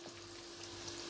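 Chopped, peeled tomatoes fry in butter in a pan for bulgur pilaf, a quiet, close sizzle with soft stirring and no talk.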